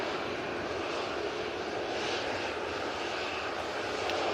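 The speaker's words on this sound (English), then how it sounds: "We do have the Qatar 787-9 Dreamliner now crossing over 23 right" A Qatar Airways Boeing 787-9 Dreamliner crosses runway 23 right at Manchester Airport, a dense, even rumble of jet engines running continuously at moderate loudness with no voices.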